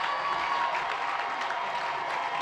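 A crowd at a high school football game between North Mason and Shelton roars in a dense, continuous wash of cheering and clapping, heard from a distance with no break.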